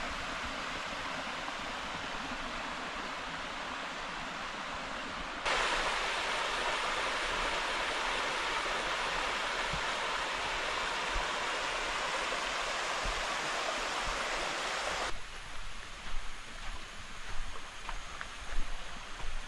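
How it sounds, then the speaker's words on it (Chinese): A waterfall and mountain stream rush at the start of a hill climb at Puncak Bukit Besar in Kedah, forming a steady broadband roar that swells louder midway and then eases back. "那边又有瀑布山水"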